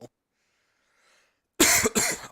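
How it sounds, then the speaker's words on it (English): A person coughs loudly at close range after near silence, a harsh burst of a few coughs with a brief gap between them. "the stupid cough is not going away, which is very annoying"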